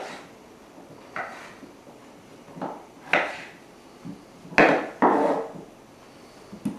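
A knife cuts potatoes into small pieces on a board, giving about a dozen irregular woody chops and thuds, some sharper and louder than others, close by with no talking.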